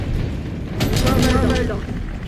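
A stun grenade goes off in Call of Duty Black Ops 6, a single bright concussive burst with a ringing, shimmering tail over continuous game noise.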